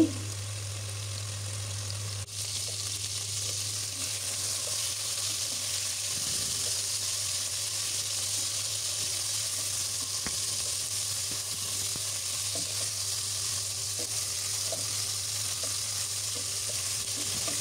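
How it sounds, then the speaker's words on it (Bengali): Pieces of broiler chicken frying in a pan give a steady, close sizzle that holds at an even level throughout, with faint scraping now and then. "এই তো চিকেনগুলো আমি ভেজে নিচ্ছি"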